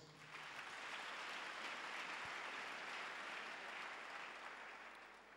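A church congregation breaks into sustained applause, a dense, even wash of many hands clapping that swells quickly and holds steady for several seconds, fairly loud and filling the room, with no voices on top.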